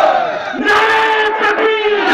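A large crowd at a political rally in Amroha, Uttar Pradesh roars back the Naara-e-Takbeer slogan response, a loud sustained chorus of many voices rising together over about two seconds.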